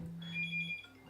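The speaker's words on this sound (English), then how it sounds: "the prison phone ringing" An electronic prison telephone rings in a single clear tonal burst, steady and fairly close, fading out just before the end.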